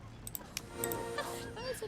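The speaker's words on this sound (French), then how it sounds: "Regarde, il y a ici tout un tas de mouettes qui attendent que quelqu'un les prenne sous son aile." Seagulls calling in the video game Star Stable Online, a flock of honking, squawking cries with quick clicky bursts, overlapping and busy, with a voice talking over them.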